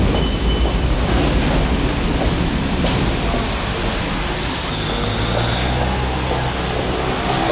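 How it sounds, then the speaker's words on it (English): A Paris metro train runs with a loud, steady rumble and roar heard from inside, with faint squeals and rattles over a constant low drone. "On the French metro."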